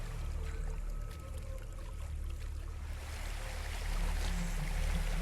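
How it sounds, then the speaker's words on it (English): Steady rushing roar of a waterfall in Hellblade: Senua's Sacrifice, a broad continuous wash of falling water that swells slightly toward the end, with no talking over it. "There's a waterfall."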